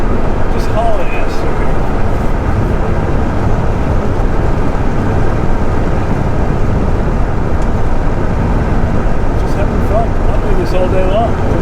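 A 1983 Porsche 911 SC Targa cruising at highway speed around 5,500 RPM, a loud steady broadband engine and wind roar that continues without a break throughout.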